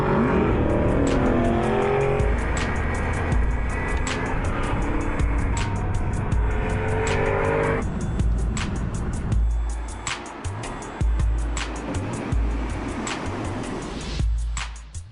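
An Aston Martin V8 Vantage S in sport mode drives with a loud, close engine drone that holds steady. Revs shift partway through, and faint tire noise mixes in, with no voices heard.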